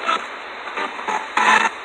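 Static from a radio spirit box on the Poinciana Trail gives a harsh, loud stream of white noise with choppy bursts as it sweeps.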